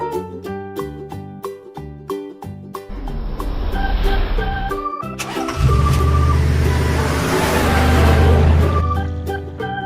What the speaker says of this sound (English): Yellow school bus.